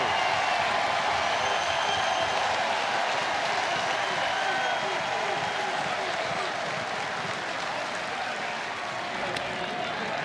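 Overflow crowd at a college baseball game in Morgantown, West Virginia, applauding and cheering steadily throughout, a broad continuous roar that never drops away.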